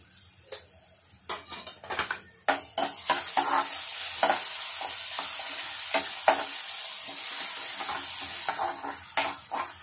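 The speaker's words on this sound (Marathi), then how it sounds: "थोडं जिरं टाकूया आणि थोडी राई टाकूया।" Cumin and mustard seeds hit hot oil in a pan: sharp crackling pops start sparse, then swell into a dense, continuous sizzle with scattered louder pops and faint utensil clinks. Nobody speaks.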